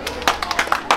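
Scattered hand clapping from a small audience at a K-1 kickboxing charity fight weigh-in, a few sharp irregular claps over about a second with voices talking alongside.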